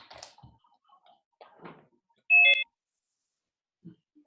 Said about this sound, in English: I just take my bowl over to the dispenser and I just press 3 times.